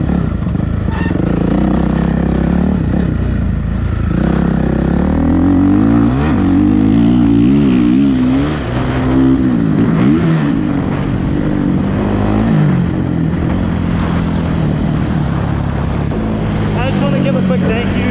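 A Suzuki RMZ 450 motocross bike revs hard while ridden at White Knuckle Ranch MX, the close, loud engine rising and falling with throttle blips and gear changes, sustained throughout.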